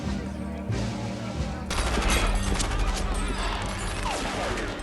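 Gunfire from the TV show The Vampire Diaries, a dense, loud fusillade of rapid shots layered over music and scene noise, with talking faintly underneath.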